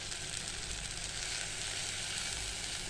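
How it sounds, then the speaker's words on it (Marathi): Coriander leaves dropped into a hot tempering with softened tomatoes sizzle and fry steadily, a continuous close hiss for the whole stretch with no talking, while mixed dal khichdi is being cooked. "आपण आता थोडीशी कोथिंबीर टाकणार आहे फोडणीमध्ये."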